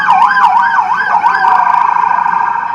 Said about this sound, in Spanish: decenas de ambulancias recorrieron la ciudad y encendieron sus sirenas